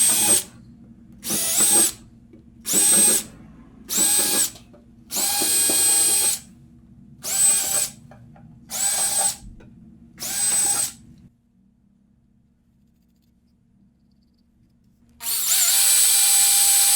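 A power drill bores screw holes into the rear panel of a horse-drawn coach in a coach shop, in about nine loud, close bursts of a second or so each with short gaps between, then a pause and a final long burst.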